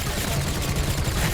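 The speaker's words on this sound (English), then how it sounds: "I love these tail guns." Rapid tail guns firing from a Gigantophis gun saddle in ARK, a dense continuous rattle of shots that fills the whole moment at close range, with no talking.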